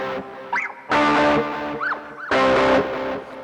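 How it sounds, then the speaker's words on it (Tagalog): An electric guitar through a Valeton GP5 with delay and a green OD overdrive, two long distorted chords with bending lead notes between them, loud and close with echoing repeats. "lumalabas ngayon yung delay. Kasabay nung distortion."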